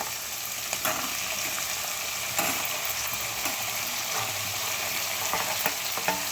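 Cucumber is stirred into a frying tomato curry in a pan, producing a constant close hiss with occasional sharp spatula scrapes and taps and no speech.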